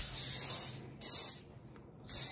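Hair spray misted onto a U-part wig in three short close hissing bursts separated by brief pauses, with no talking.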